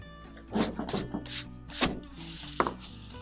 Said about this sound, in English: Here's a red rubber eraser.